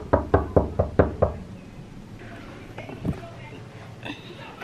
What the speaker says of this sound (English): Let's go knock on Dariana's door